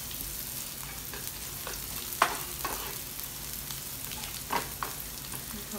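Vegetables and onion being stir-fried for kung pao chicken, a steady close sizzle with scattered scraping clatters of the spatula stirring the pan, heard alone without talk.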